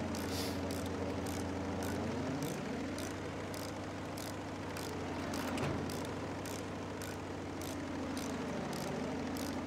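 Low-flying airplane in the Battlefield V video game, a steady engine drone with a broad rumble that swells and dips as it passes, continuous throughout with no talk.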